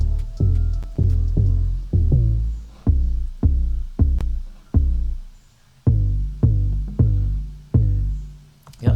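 Deep 808 bass notes and a punchy Kino kick drum from a Soundtrap beat machine, playing together in a steady, repeating pattern of booming hits with short decaying tails, loud and alone without any talk.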